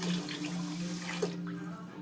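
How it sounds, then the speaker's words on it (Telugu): Water pours steadily into a pot for coconut rice, a close, continuous splashing rush that tapers off near the end. "ఇదిగోండి డబ్బా వాటర్ పోసేసాను"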